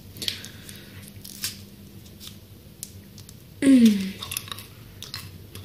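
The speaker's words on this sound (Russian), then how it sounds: "Надо жвачкой закусить." Mint-flavoured chewing gum being chewed close up makes soft, wet, squishy clicks at an irregular pace, with a brief voiced exclamation partway through.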